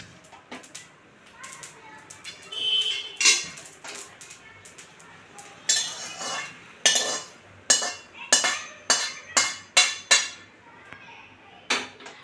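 Roasted carom seeds are tipped and scraped from a pan into a wide plate, giving a series of close metallic clanks and scrapes that grow into a rapid run of knocks toward the end.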